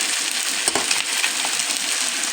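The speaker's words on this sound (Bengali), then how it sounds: "মাছ পুরকল একসাথেই কষিয়ে নিলাম" Pangas fish and pointed gourd frying together in a pan, a loud, even, continuous sizzle heard up close, with one brief stirring scrape, and nobody speaking.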